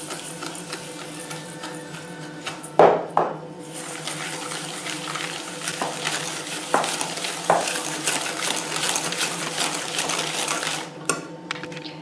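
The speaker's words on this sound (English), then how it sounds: "Add also the sugar over the yolks and whisk together." A whisk beats sugar into egg yolks in a bowl for a nut cake, a continuous rapid swishing and rattling with a few sharper knocks against the bowl, close and moderately loud, no voices.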